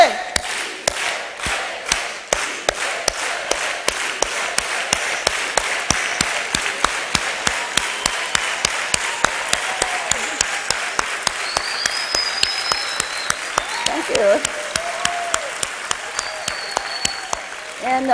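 An audience at a Dolores Huerta event at Del Mar College claps in an organized, steady unison beat while chanting together, loud and rhythmic, with a few voices calling out over the crowd.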